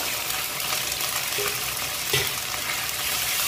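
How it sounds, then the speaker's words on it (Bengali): Ginger and garlic paste frying with onions in oil makes a close, continuous sizzle, with a brief clink partway through. "আদা রসুনটা একটু ভাজা করে দিয়ে নেব।"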